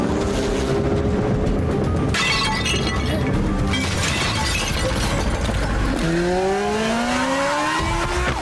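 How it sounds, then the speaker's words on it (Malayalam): A cartoon motorcycle roars loudly through the night, its engine rising and falling in a series of revving, pitch-sweeping passes with screeching and crashing effects layered on top, and no talk. "ഈ അർദ്ധരാത്രിയിൽ ആരാണോ ഇത്ര ശബ്ദത്തിൽ ബൈക്ക് ഓടിക്കുന്നത്?"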